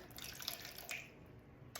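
Warm water poured into a container on a kitchen scale for a sourdough starter, a faint gentle trickle with small splashing drips, close and quiet, with no talking.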